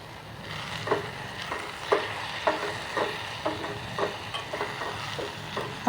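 Gongura and chana dal curry cooking in a pan, with a soft sizzle underneath and repeated scraping stirs of a spoon about once a second.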